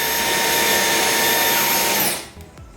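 A $339 cordless stick vacuum cleaner runs at maximum power with a loud, steady high-pitched whirring whine that holds level and then cuts off abruptly near the end.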